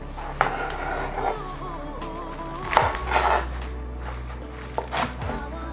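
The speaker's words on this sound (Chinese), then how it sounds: "去掉头，切成1个手指头的长度" A knife chops spinach into finger-length pieces on a board with a few separate knocks and a louder flurry of cuts in the middle. The cuts sound close, with faint kitchen clatter around them.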